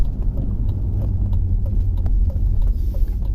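A 2001 BMW X5 with a 4.4-litre V8 and a transmission that was stuck in limp mode, driving along. A steady low engine and road rumble is heard from inside the cabin, with a few faint ticks and bumps and no talking.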